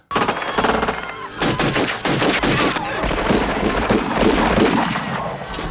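Loud, dense bursts of automatic gunfire from the 1990 film Total Recall, where a man is used as a human shield and shot up, with rapid overlapping shots filling the whole stretch.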